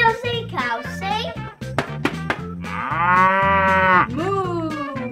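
A voice imitates a cow mooing with one long, steady, loud moo in the middle, set among a run of short, choppy spoken syllables close to the microphone.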